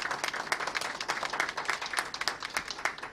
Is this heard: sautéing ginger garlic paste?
no